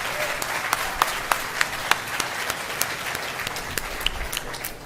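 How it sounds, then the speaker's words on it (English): Audience applause at a hospital groundbreaking ceremony with Ontario's premier, a steady patter of many hands with a few sharp, distinct claps standing out near the front, moderate in level throughout. "you can clap"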